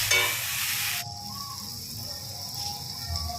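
Ginger-garlic paste sautéing in a pan for pomfret curry, a loud burst of sizzle in the first second that settles into a softer steady hiss with faint stirring scrapes.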